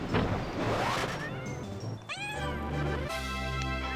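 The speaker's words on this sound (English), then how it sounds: "No one could get mad at a cat sound." Cat meow sound effect played during a Quest 64 stream: several loud, drawn-out meows and a yowl in quick succession, close and clear.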